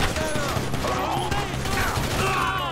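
Rapid gunshots from GTA 5 crackle in a continuous fusillade, dense and sustained, mixed with other game sounds.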